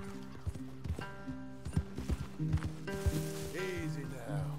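Horses' hooves clip-clop in Red Dead Redemption 2, a loose run of uneven hoofbeats with tack and movement sounds, near and fairly loud, with a brief snort or whinny.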